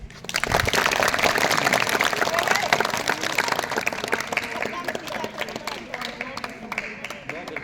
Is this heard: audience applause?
yes